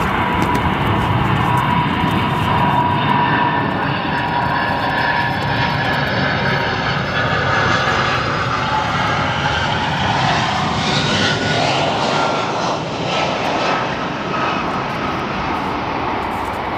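A heavy Boeing 747-400 jet in all-white livery on runway 10 Center at O'Hare airport gives off a loud, continuous engine roar that swells and sweeps in pitch over about seventeen seconds, with no talking.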